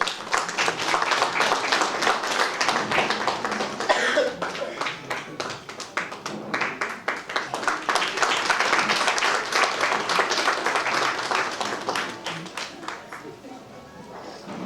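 Hall crowd at a Chinmaya Mission Guwahati annual day celebration claps steadily for a souvenir being unveiled by the chief guest, sustained sharp handclaps with a murmur of voices mixed in, easing slightly toward the end.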